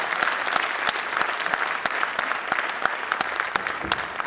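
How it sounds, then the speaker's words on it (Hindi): A crowd at a state BJP working committee meeting applauding loudly to welcome Nadda, steady, dense clapping with sharp individual claps standing out, sustained throughout with no talk. "मैं एक बार फिर से आप लोगों से गुजारिश करते हुए कि जोरदार तालियों के साथ माननीय नड्डा जी का आप स्वागत करें"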